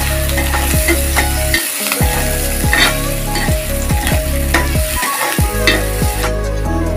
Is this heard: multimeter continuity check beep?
no